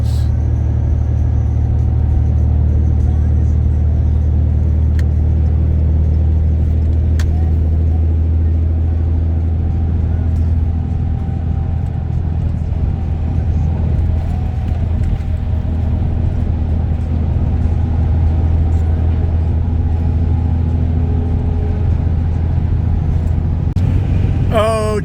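A Ram 3500 Mega Cab pickup truck driving down a road, heard from inside as a loud, steady low engine and road rumble that drones continuously, with a brief rattle near the end.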